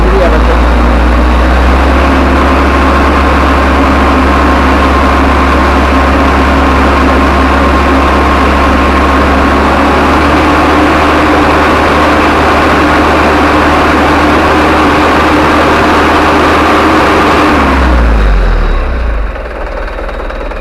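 A car engine idles loud and close, revving under throttle during a radiator flush with laundry detergent, a steady heavy drone that drops away near the end as people talk over it.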